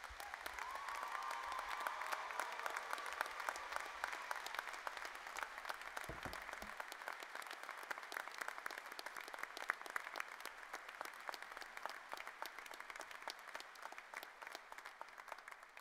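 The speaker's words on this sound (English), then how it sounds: "please join me in a round of applause for the Army's newest second lieutenants" Sustained audience applause at a military commissioning ceremony honoring newly commissioned Army second lieutenants, a steady, dense wash of many hands clapping at even loudness throughout.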